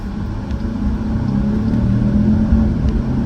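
A Jeep Grand Cherokee 4xe with a 2-liter turbocharged engine and electric assist pulling away on a frigid winter day, a loud, steady low rumble rising slightly as it accelerates.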